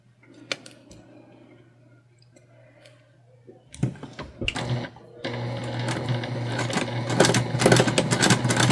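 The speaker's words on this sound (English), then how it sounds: "So we're just going to go ahead and sew these together." A sewing machine stitches together the sides of a fabric hair tool bag: a brief burst, a pause, then steady rapid whirring and clicking that runs loud and continuous to the end.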